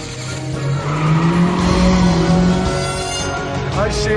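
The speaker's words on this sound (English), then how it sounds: "We are actually having an intense car chase scene between a car and a remote control car." Tires squeal loudly and continuously as a car skids during a chase after a remote control car in the Home Alone 3 video game, with an engine droning beneath the screech.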